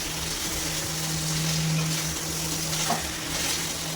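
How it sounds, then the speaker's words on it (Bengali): Potatoes sautéing in a pan for rohu fish curry, a steady, close frying sizzle with faint stirring underneath, no talking. "দেখতে পাচ্ছেন আমি 3 থেকে 4 মিনিট ধরে ভালো করে আলুটাকে কষিয়ে নিচ্ছি।"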